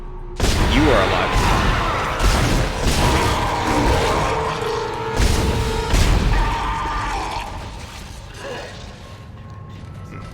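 Gunshots fired at an enemy in the video game Dead Space, several heavy blasts spaced a second or two apart amid rumbling, creaking game ambience.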